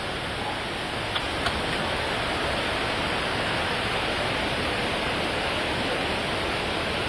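Dense, continuous roar of heavy rain pouring down, steady and loud, with a couple of faint taps early on.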